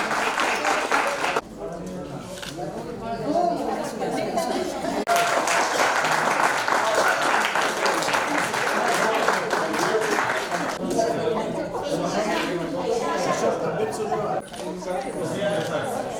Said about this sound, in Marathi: सगळ्यांनी टाळ्या वाजवायच्या आहे.